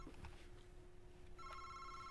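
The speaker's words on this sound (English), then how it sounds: "I'm gonna answer the damn phone." A telephone rings inside the horror video game August Night, with a steady electronic ring tone entering partway through over a low constant background hum, no talk heard.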